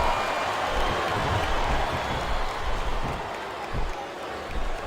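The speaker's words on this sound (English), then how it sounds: "This capacity crowd is making their opinions known tonight." An arena crowd in the WWE SmackDown vs Raw wrestling game, at a John Cena versus Kurt Angle championship match, keeps up a steady roar of cheering and clapping under commentators' voices.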